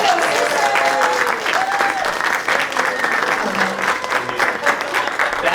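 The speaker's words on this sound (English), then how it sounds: "ladies and gentlemen, if you could give a huge round of applause," A conference audience at an entrepreneur program business pitch contest applauds the president, loud sustained clapping from many hands, with a few faint voices and whoops mixed in throughout.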